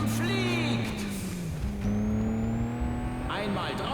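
Race cars roar and accelerate in the Juiced 2 racing game, with strong engine harmonics rising in pitch as a car surges, other engines and tire noise layered around, loud and continuous with a voice talking over it.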